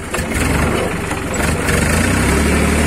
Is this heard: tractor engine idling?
yes